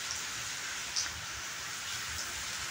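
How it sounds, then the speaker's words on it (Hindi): Steady rain hisses continuously at a fairly low level during a strong windstorm in Rajasthan, with a few faint drips and no voices. "बारिश भी बहुत जोर से हो रही"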